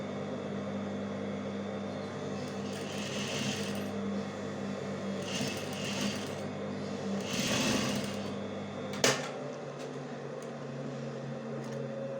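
A sewing machine runs steadily while stitching a hem seam with an enclosed raw edge, a continuous mechanical whir with several surges in speed and a brief sharp click near the end.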